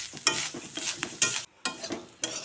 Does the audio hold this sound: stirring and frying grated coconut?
yes